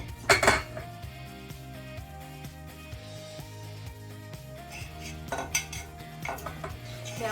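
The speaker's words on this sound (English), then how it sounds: "Now the butter, you just want to mix it in with the dry ingredients till it's kind of like a bunch of sand" Butter is mixed into dry ingredients for chai scones with utensil clinks and scrapes against a bowl, louder bursts near the start and middle, over steady background music.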